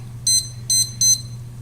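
A kitchen timer being set while potatoes cook, sounding four sharp high-pitched electronic beeps in an uneven rhythm, loud and close over a steady low hum.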